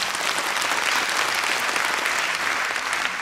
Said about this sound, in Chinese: 我们再次给公司一个热烈掌声。